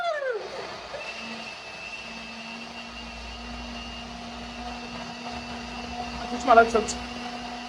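An electric blender whirs steadily, blending a chickpea drink (hummus el-sham) in a home kitchen, its motor whine holding a constant pitch while people talk over it and a brief clatter rises near the end.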